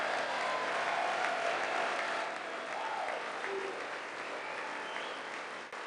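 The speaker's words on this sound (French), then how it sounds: "Évidemment, seuls les républicains ont applaudi." Republican lawmakers applauding at a State of the Union address, a sustained wash of clapping from a large crowd heard at a distance, fairly even and fading slightly toward the end.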